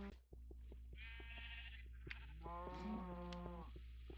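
A sheep and a cow in a cattle-raising video game, the sheep giving several clear, wavering bleats close by over a constant low hum.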